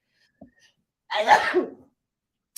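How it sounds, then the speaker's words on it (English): A single loud, close sneeze after a brief sharp intake of breath, followed by silence. "hold on, gotta sneeze."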